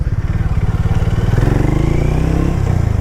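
Harley-Davidson X440 motorcycle engine and exhaust running steadily, with a loud, throbbing low rumble and rapid pulsing beat that swells slightly as it revs, heard close with no talking.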